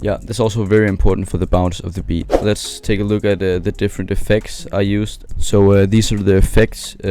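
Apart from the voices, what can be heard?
None of the usual background noises is heard.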